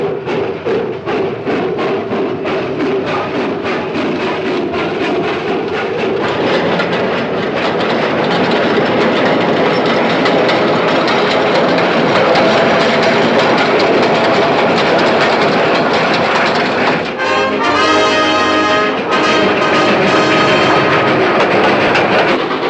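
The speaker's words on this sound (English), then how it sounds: "Campbell, nobody's going to stop this train until we reach the first Chickamauga Bridge." A steam locomotive-hauled train runs at speed in a 1956 Civil War chase film, a loud continuous rushing roar with rapid rhythmic chuffing and rail clatter, shifting near the end to a harsher, broken stretch.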